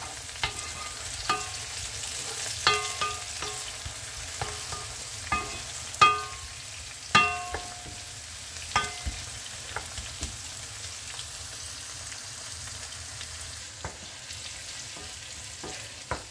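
Fish cooks in sauce in a pan with a soft continuous sizzle, broken by scattered clicks and scrapes of stirring; the sound is close and unaccompanied by talk.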